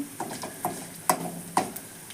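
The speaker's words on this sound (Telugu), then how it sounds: "అదిగో తాలింపు ఇంగు వేసాను కొంచెం" Tempering with asafoetida in a pan for vegetable fried rice: soft sizzling with a few sharp ticks and spatula clicks, quiet and close.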